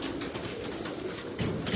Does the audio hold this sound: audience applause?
no